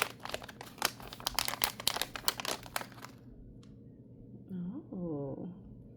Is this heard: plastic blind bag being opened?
yes